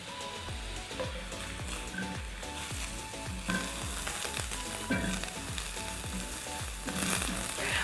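Mushrooms sizzle and crackle in a hot pan of butter and oil, a dense, constant hiss over a steady rhythmic beat of background music, without speech.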